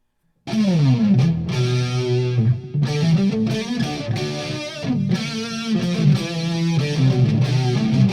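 A loud electric guitar plays a lead line through a Boss DR-880's chorus lead tone, shimmering and swirling, with sustained, bending notes.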